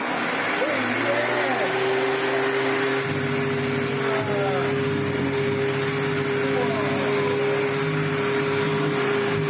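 A 74-year-old antique vacuum cleaner runs with a steady motor whine and hum, shifting pitch partway through, with faint handling noises underneath.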